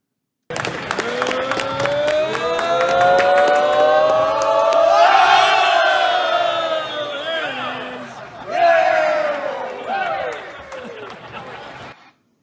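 A crowd roars and cheers at a sporting event, heard loud from a played clip: sustained massed shouting and whoops that swell mid-way, dip, then surge again before cutting off abruptly.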